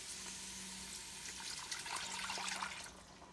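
Water runs from a tap or is poured into a liquid measuring cup in a home kitchen while making a stock-based dish, a steady splashing stream heard close with no talking.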